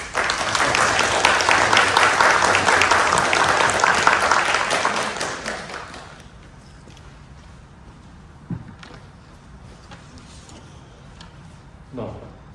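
Applause from a congregation at a Buddhist memorial service in Fresno welcoming Reverend Gibbs: steady, dense clapping for about six seconds that fades out, followed by quiet room sound with a couple of soft knocks.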